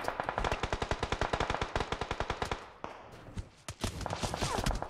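Rapid automatic gunfire in PUBG Mobile, a fast, even rhythm of sharp shots that breaks off and then resumes in scattered bursts, fairly close and without talk.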